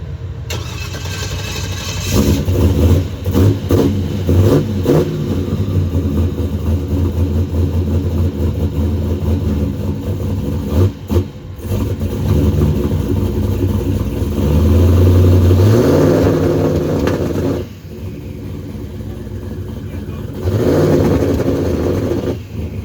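A drag race car at Sick Week 2025 cranks to life and holds a loud, close, rough idle, then revs hard on the two-step and trans brake with stuttering bursts, dropping off near the end.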